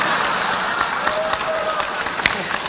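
Audience applause during a lecture on the meaning and values of Pancasila, a steady patter of clapping from a crowd, moderately loud, with voices faintly under it.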